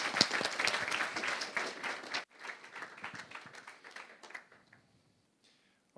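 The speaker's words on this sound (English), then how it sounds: "Let's give another round of applause." Conference audience applauding after a talk: a dense burst of clapping for about two seconds, then thinner scattered claps that trail away into near silence.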